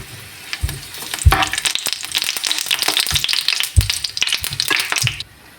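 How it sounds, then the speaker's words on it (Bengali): Dried red chillies fry in hot oil in a pan, a steady loud sizzle broken by sharp clattering bursts of stirring, with no voices. "শুকনো মরিচটা যখন ভাজা হয়ে যাবে তখন দিয়ে দেব চিংড়ি মাছ।"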